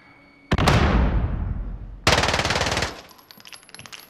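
Video game gunfire in Call of Duty: a loud sustained automatic burst, a brief pause, then a second rapid burst, followed by a quieter tail of scattered shots and game ambience.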